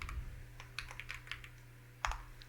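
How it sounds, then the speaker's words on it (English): Keys tapped on a computer keyboard in a short run of soft, close clicks over a low steady hum, ending with a firmer keystroke. "the leaf, first one is, I just type it as leaf"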